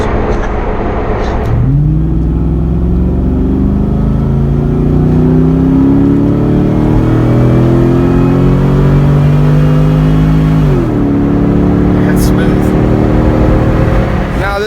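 An LS-swapped Jeep Wrangler's V8 engine and exhaust rumble loudly from inside the cabin, climbing steadily through a long acceleration pull, easing briefly and picking up again, with a voice heard over the engine noise.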